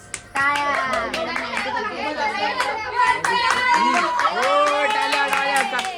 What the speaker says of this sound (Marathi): टाळ्या वाजवल्या